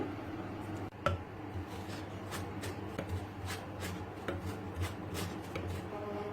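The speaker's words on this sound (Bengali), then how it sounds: "আমি কাটারের সাহায্যে আলুগুলাকে স্লাইস করে কেটে নিচ্ছি" Raw potatoes for homemade chips being sliced with a cutter, a steady series of crisp rasping strokes at an even rhythm, close and moderately loud over a low background hum.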